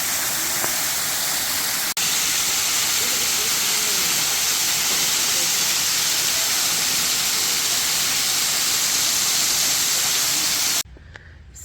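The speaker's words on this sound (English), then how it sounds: "it is another amazing waterfall" A forest waterfall on a hiking trail sprays with a loud, continuous broadband roar and hiss that holds steady, then cuts off abruptly at the very end.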